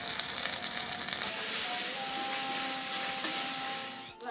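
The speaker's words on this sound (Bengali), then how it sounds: "তেলটা গরম হয়ে গেছে, দিয়ে দিচ্ছি লঙ্কা বাটা।" Ginger and green chili paste sizzling in hot oil, a steady close hiss and crackle throughout, louder and harsher at the start before settling into an even sizzle.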